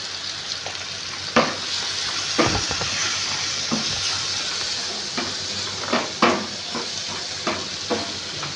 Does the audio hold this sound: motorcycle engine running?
no